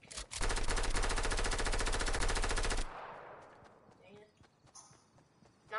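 Rapid sustained SMG fire in the Fortnite video game, a dense rattling burst lasting a few seconds before cutting off, followed by quieter game sounds and a brief loud noise at the end.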